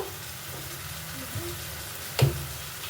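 Mushrooms frying in oil with chilli and coriander powder give a low, even sizzle, with one brief louder clatter near the end, close by and without talk.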